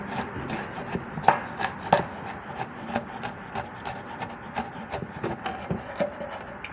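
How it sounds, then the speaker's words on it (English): Repeated knife chops on a board finely chopping garlic for Malaysian curry puffs, in an uneven rhythm, crisp taps close by, with a steady faint hiss in the background. "I'm just chopping the garlic down to fine."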